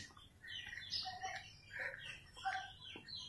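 Pigeons call and coo softly in bursts, a few overlapping voices at moderate distance with no talking.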